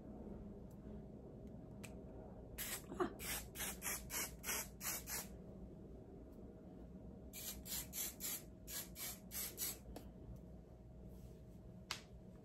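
Hair spray hisses from a can onto styled wavy hair in two rapid series of short bursts, close but fairly quiet over a low steady hum, with a few faint clicks between.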